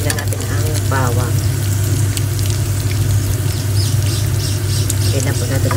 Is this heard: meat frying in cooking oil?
yes